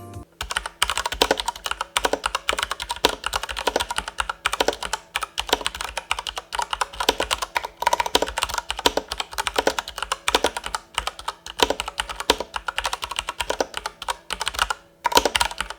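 Steady typing on an IQUNIX L80 mechanical keyboard with Cherry MX Brown tactile switches lubed with Krytox, a fast continuous clatter of keystrokes close up, with no voices.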